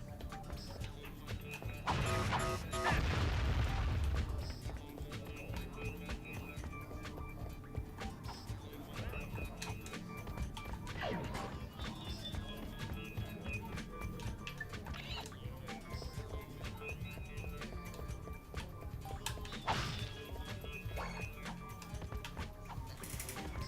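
In Ratchet & Clank: Going Commando, a wrench turns a bolt crank, giving continuous faint mechanical ratcheting clicks and gear whirring, swelling louder for a few seconds near the start, with no talking.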